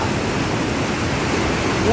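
A monsoon waterfall near Jawhar roars in a loud, steady rush of water that fills the whole clip, with a voice just beginning at the very end.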